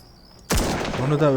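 A sudden, loud burst of rapid gunfire erupts after a brief quiet moment as rooftop snipers are shot at in the video game IGI 2 Covert Strike.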